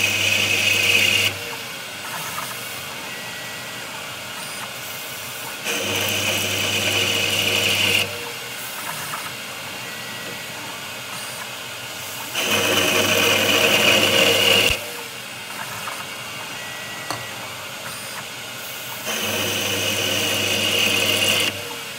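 A metal lathe cuts left-hand threads under a Rocketronics ELS4 electronic leadscrew control, with repeated passes: a steady motor hum swells louder for a few seconds, then drops back, several times in a regular cycle, close by with no talk.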